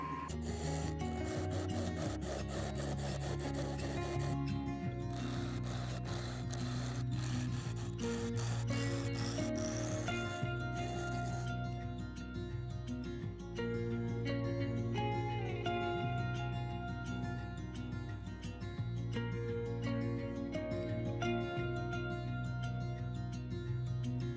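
Wood pen blank being shaped on a lathe spinning at about 1,000 RPM with a spindle gouge: a steady, loud scraping and rubbing that runs continuously over the hum of the machine, with no talk.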